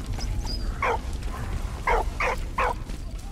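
Dog barking in the video game Valiant Hearts: The Great War, four short barks in two pairs, moderately loud over a low rumbling game background.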